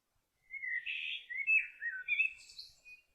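Bright bird chirps and tweets used as a looping environmental ambience emitter in Unreal Engine, a short run of several quick, clear calls in close succession over silence.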